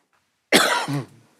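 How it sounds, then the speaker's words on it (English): A single loud, sharp cough right up close at a town council meeting microphone, ending in a brief throaty rasp, with silence before and after. "Sorry, I forgot to hit the cough button."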